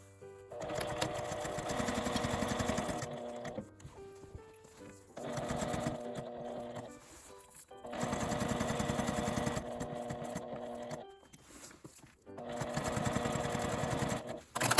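A sewing machine stitches fabric for a document case in four steady, humming runs separated by short pauses. The motor sounds close and clear with no voices.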